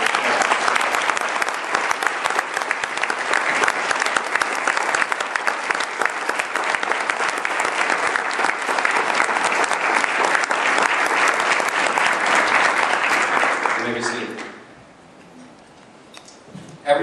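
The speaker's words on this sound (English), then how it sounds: "I ask that you all give them a loud round of applause." A university Veterans Day audience gives a loud, sustained round of applause for standing veterans, dense clapping for about fourteen seconds before cutting off into quiet room tone.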